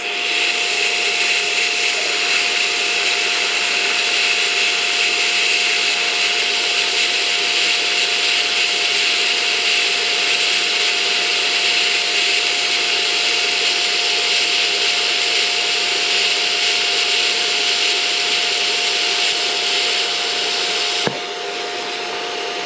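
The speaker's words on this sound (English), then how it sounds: "that's TIG welding with this" A BESTARC ARC200 welder running in TIG mode gives a steady, even electric hiss with a faint constant hum. It holds unchanged for over twenty seconds and ends in a short click. No one speaks.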